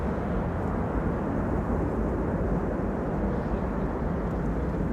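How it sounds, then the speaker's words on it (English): An airliner's thrust reversers roar on landing at Schiphol, a loud, steady, broad rumble that holds evenly throughout with no voices over it. "Reversers being applied there."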